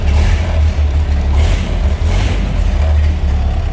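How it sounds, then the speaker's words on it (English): A 1929 Ford Model A Coupe engine rumbles deep and close with an old hot rod tone, rising briefly as the throttle is nudged, with no talk over it. "Throttle it up just a tad right here. Hey, how about that? It's even got that old school hot rod sound."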